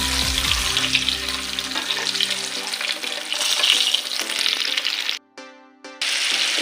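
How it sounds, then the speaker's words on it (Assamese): Eggs fry in a kadai on a gas stove with a close, busy sizzle and spatter for several seconds and a low tone underneath early on, then the sound drops away briefly before the frying resumes. "এইফালে গেছত আন এখন কেৰাহী পাতি ডিমকেইটাও ফ্ৰাই কৰি ল'লোঁ।"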